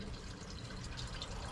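Water trickles and drips steadily from a freshly watered plant pot, a continuous close, soft hiss of liquid running through soil.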